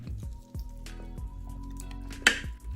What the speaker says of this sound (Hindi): गोश्त के हर पीस पे नमक को अच्छी तरह से लगा लेंगे।